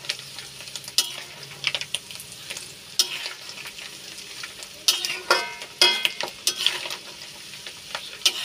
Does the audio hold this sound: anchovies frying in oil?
yes